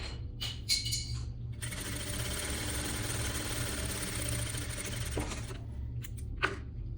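Sewing machine stitching a shoulder seam on a garment, a steady mechanical whir running through most of the stretch, set between short clicks and handling knocks at the start and end.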